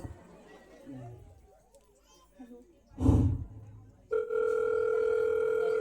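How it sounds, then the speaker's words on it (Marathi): A telephone rings with a steady electronic tone that starts abruptly and continues, following murmured talk and a loud sigh-like burst in a rural village comedy skit. "तुम्हाला फोन येतोय"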